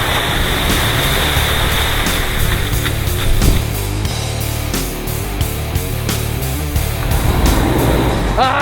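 A Volkswagen Amarok engine strains and revs while bogged on a rough 4x4 track, a loud, continuous close drone with rising and falling pitch and scraping, churning noise.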